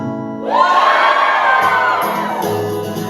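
Wedding guests burst into loud, sustained shouting, whooping and cheering together as a crowd, rising sharply and continuing for about three seconds with no speech.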